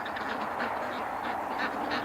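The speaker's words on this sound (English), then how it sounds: "That goose is bringing the ducks back out." Ducks and geese on the water make a steady, busy chorus of quacks and honks, with continuous flock chatter at moderate distance and no talk.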